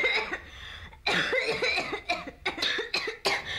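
A series of harsh, close coughs in quick bursts, repeated about eight times with short pauses between.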